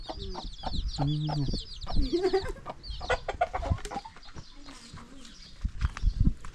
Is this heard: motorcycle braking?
no